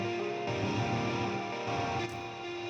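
Glockenspiel notes run through effects until they take on an electric guitar tone, playing a sustained, dense melodic line with steady harmonics and no voices.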